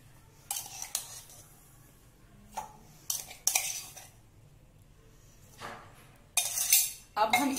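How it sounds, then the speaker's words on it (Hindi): Ice cubes dropped into glasses of nimbu pani lemonade made with lemon juice and crushed mint, several bright clinks and clatters in separate bursts between quiet gaps. "अब हम इसमें कुछ आइस क्यूब डालेंगे।"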